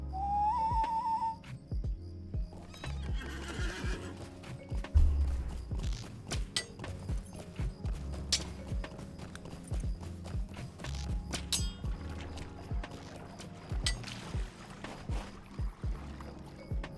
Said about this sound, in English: Back on our horse.